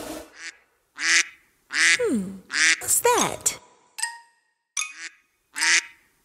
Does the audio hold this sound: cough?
no